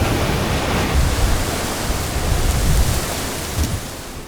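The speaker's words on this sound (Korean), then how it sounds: "특히 바람." Strong wind sweeps across an island, a steady, dense roar that swells and gusts near the mic and continues throughout with no voices.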